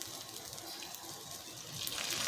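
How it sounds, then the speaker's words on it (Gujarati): Water is poured from a vessel into a chutney mixture cooking in a pan for a poha snack, a steady, close splashing pour that continues throughout and grows slightly louder at the end. "તો હવે આપણે તેની અંદર થોડું પાણી ઉમેરીશું।"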